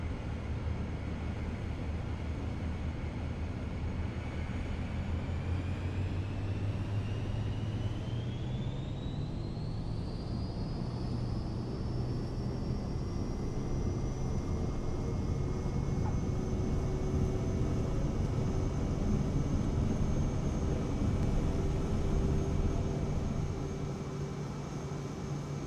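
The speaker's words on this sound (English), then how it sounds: "We'll do a rolling takeoff." In Microsoft Flight Simulator 2024, an airplane's engine drones steadily through a rolling takeoff, with a rising whine that climbs in pitch and then holds, over a constant loud rumble with no talking.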